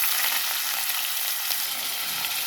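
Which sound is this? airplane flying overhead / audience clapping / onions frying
onions frying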